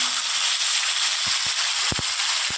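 Tomato fries in oil with dried red chili, nigella seeds and a bay leaf, producing a constant hiss of sizzling broken by a few sharp crackling pops toward the end, close by and with no voices.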